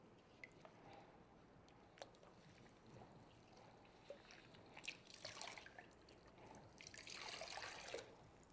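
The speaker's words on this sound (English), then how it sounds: "So I'm just going to rinse it out a little bit." Water running and splashing while dye is rinsed out of hair, a faint steady trickle with scattered drips that grows into louder splashing toward the end.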